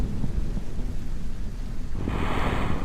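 Thunder rumbles low and loud from a storm with rain in Kerbal Space Program, a dense continuous roar that brightens into a hissing downpour over the last second, with no talk.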